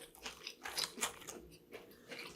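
Someone chews Wingstop buffalo chicken wings close to the microphone, making quiet, wet crunching bites in an uneven rhythm, with no talking.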